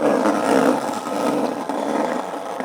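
Garage-door spring used as coping at a DIY skatepark, giving a loud, sustained metallic roaring rattle that swells and fades over a few seconds, close up and with no talking over it.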